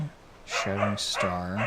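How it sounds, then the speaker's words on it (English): A pet dog barks a few times, short loud harmonic yelps in two clusters, mixed with someone speaking over World of Warcraft: Dragonflight gameplay. "I apologize for my dog, she's losing her shit."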